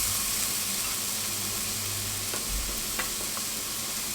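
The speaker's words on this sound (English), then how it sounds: "we're going to mix this around" A spicy stewed beef mixture is stirred in a pot with a steady, close sizzling and scraping texture and a few faint clinks, with no talking.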